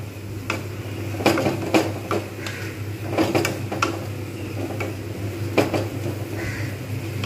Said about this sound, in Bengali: একটা আঁচ কমিয়ে রেখে এবারে ঢাকনা দিয়ে দেবো।